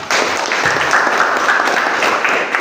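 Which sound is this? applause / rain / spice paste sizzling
applause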